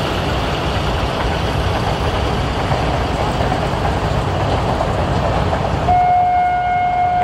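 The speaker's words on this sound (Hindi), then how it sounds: "ये देखिए एक ट्रेन जा रही है" A train passing beside a road near a rail line being doubled, a loud steady rumble and roar close by, ending with a sustained horn-like tone near the end.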